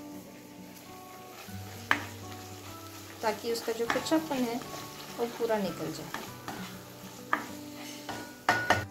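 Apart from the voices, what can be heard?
stirring ginger garlic paste with onion and tomato in pan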